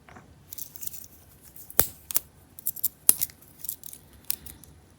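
Small keychain scissors of a NexTool Mini Flagship F12 multitool, made of 5Cr15MoV steel, snipping several times in quick irregular cuts, with a couple of sharp, close, crisp snaps standing out and no talking.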